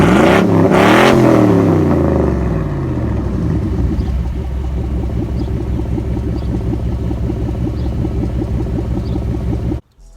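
A 1996 Chevy Silverado C1500 pickup with new side exhaust tips is revved hard twice near the start, then settles into a steady, rhythmic, burbling idle close by until it cuts out abruptly at the end.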